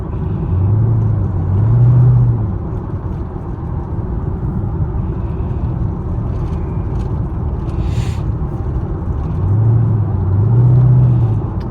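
Chevrolet Camaro SS V8 cruising on a late-night drive, a steady low engine rumble heard from inside the car with two gentle swells of revs, no talking.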